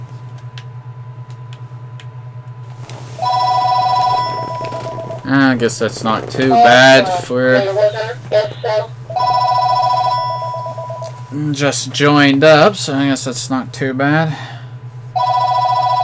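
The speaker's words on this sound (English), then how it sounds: "God dang phone, stop ringing." An old-style telephone rings in repeated bursts during an online DOOM deathmatch session, with someone talking over and between the rings against a steady low hum.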